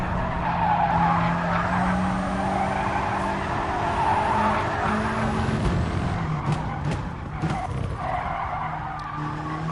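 Race car in GT Sport, a VW Cup round, braking hard into a corner: prolonged loud tire squeal and skidding over a droning engine, with the tone wavering as the car scrubs speed and then picks up again.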